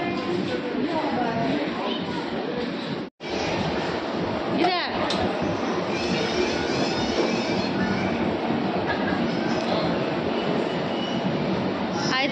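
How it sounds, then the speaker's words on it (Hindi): A train stands at a busy railway station, giving a steady rumble and hiss of the rail yard with a brief wheel squeal, while a voice talks over it. "हमारा ट्रेन लगा हुआ"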